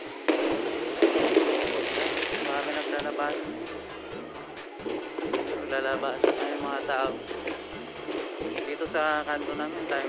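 New Year's Eve fireworks crackle and pop in scattered bursts across a residential neighborhood, heard at moderate distance beneath steady nearby conversation.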